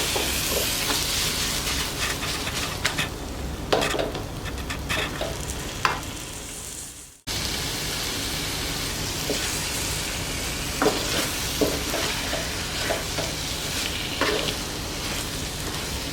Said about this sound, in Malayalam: നന്നായിട്ട് മിക്സ് ചെയ്ത് കൊടുക്കുക